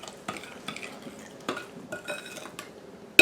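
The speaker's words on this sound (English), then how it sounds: "I'm going to put a lid on it, and I'm going to put it in the microwave" A lid goes onto a bowl of mixed berry jam headed for the microwave, giving a few close clinks and scrapes of cookware spaced irregularly through a short kitchen moment.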